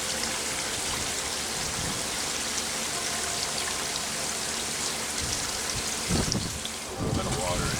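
Water pours into an NFT hydroponic reservoir during a water change, a steady splashing and trickling stream that runs continuously, with a couple of brief louder knocks near the end.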